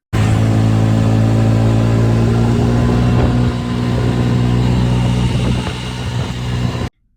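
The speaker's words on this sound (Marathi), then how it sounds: "रिक्षामध्ये बसलो आणि निघालो जायला" A small three-wheeled auto rickshaw engine drones steadily and loudly throughout the ride, with a low throbbing hum that eases slightly partway through before cutting off at the end.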